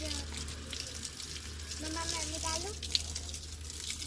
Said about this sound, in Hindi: पानी डाल दे